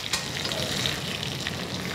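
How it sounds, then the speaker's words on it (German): Garlic and pigeon seared hard in hot olive oil, a dense crackling sizzle with spitting pops, close and steady throughout, no talking. "Wenn er zum Beispiel Knoblauch und dazu eine Taube so scharf anbrät, dass das Olivenöl Feuer fängt."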